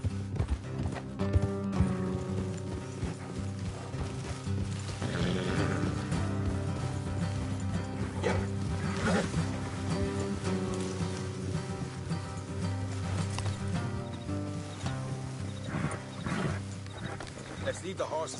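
Horse hoofbeats clip-clop in Red Dead Redemption 2 underneath a busy mix of music and voices, with steady background rumble throughout.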